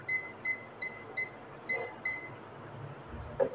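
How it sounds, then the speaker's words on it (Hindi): A non-contact voltage tester held near a live phase wire gives a string of short, faint electronic beeps in an even rhythm, about six pulses before stopping, with a quiet click at the end. "लेकिन जो ही फेज़ वाली जगह पे पहुँचेगा तो बहुत तेज़ी के साथ जो है ना इसने ब्लिंक करना शुरू कर दिया और बीप करना शुरू कर दिया"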